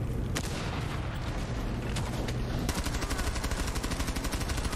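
Rapid gunfire from the video game Rainbow Six Siege, with dense automatic bursts and repeated shots filling the mix continuously and a steady rattling fire toward the end.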